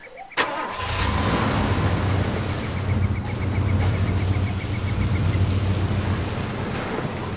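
In the video game Far Cry 2, a car engine starts with a sharp crank and catches, then settles into a steady, loud mid-pitched idle running without a break, with no talking.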